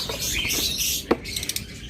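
Opaline parblue budgerigars chirp inside a box. A few quick, bright tweets and scratchy calls stand out over a busy background.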